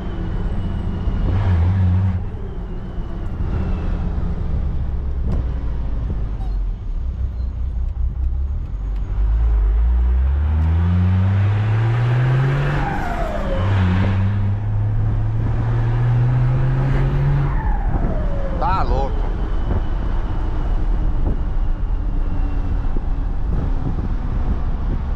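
A Ford F250 XLT-L pickup with a straight-through exhaust and a whistling turbo taken from a Cargo 1620 revs up loudly and close in rising sweeps, with the turbo's high whine audible over the engine roar.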